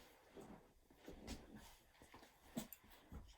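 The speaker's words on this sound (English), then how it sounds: "Sorry about my dog." A dog whimpers and snuffles softly in short, breathy bursts, faint and close by, with brief pauses between the sounds.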